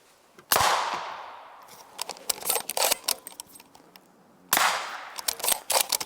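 Two loud sharp 8.6 Blackout subsonic rifle shots strike ballistic plates, each a sudden crack with a long decaying tail, roughly four seconds apart, with scattered clicks and rattling handling noises in between.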